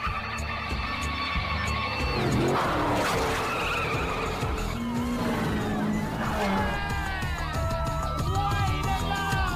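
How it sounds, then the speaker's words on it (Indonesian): Tires squeal and skid as a car drifts through a street race in the 2005 film Initial D, with long wavering screeches, loud engine roar and humming layered together continuously and close. "berhasil membalap dengan melakukan drifting sisi dalam jalan"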